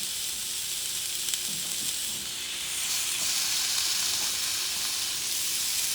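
Beef ribs sizzling on a hot cast iron griddle, a loud, steady broadband hiss of frying fat that swells slightly as more meat goes down, with no voices.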